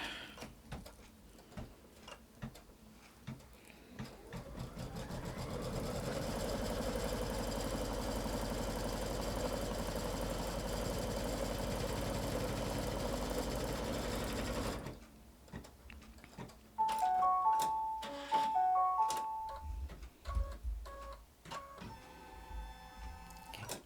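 An embroidery sewing machine stitches an in-the-hoop quilt block, starting with scattered clicks, then a steady mechanical whir for about ten seconds, followed by stops, beeps and clattering hoop movements.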